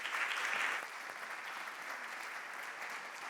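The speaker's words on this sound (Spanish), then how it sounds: "Y, bueno, sin más, un aplauso, Alexis, muchas gracias." A seated audience at a forum gives dense, steady applause, louder for the first second and then settling to an even, sustained clapping with no voices.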